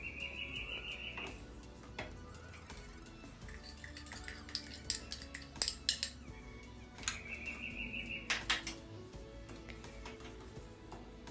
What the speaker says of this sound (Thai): คนให้ส่วนผสม ต่างๆเข้ากันค่ะ จากนั้นก็กวนถั่วไปเรื่อยๆนะคะ